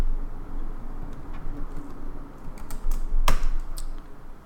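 Typing on a computer keyboard while entering a keosd wallet import command for EOSIO blockchain development: a quick run of light clicky keystrokes with one sharper key hit near the end, close and with no talking.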